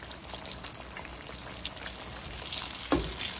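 Zucchini and eggplant slices frying in hot oil, a dense continuous sizzle with crackles and spits, with a brief clatter near the end.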